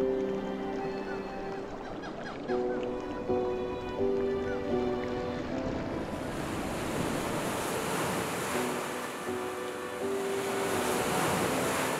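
Sea waves wash steadily around an island in the late afternoon, a broad continuous surf roar with gusting wind, while birds call in the background throughout.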